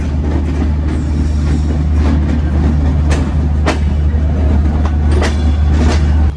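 The Kapotaksha Express rolls into Jessore railway junction with a steady, loud rumble and clatter of railcars and wheels, occasional sharp squeals rising over the continuous noise, and no talk.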